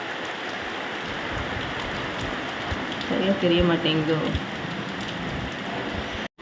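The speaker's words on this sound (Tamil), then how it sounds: "கிச்சன்லேருந்து நம்மளோட இதுலேருந்து பார்த்திங்கன்னா மழை பெய்கிறது." Steady, heavy rain falls outside a house under construction, heard from the kitchen as a dense, continuous hiss with a person talking over it.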